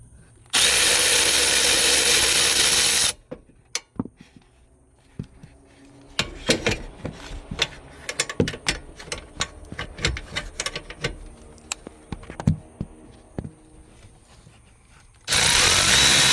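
Ratchet wrench turning 13mm bolts while a 2010 Chevrolet Camaro dash is taken apart, heard as a run of sharp, irregular clicks between two loud bursts of broadband noise at the start and end.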